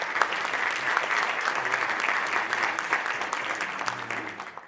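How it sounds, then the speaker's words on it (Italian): An audience claps steadily for the speakers at a city event in Vittorio Veneto, a dense, even round of applause that holds throughout and begins to taper at the very end, with no voices over it. "A tutti loro facciamo un applauso."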